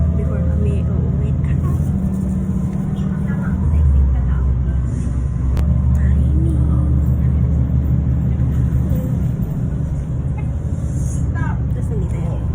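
A free-ride bus between Matina and Roxas rumbles along with a steady low engine drone and road noise, while other passengers chatter in the background.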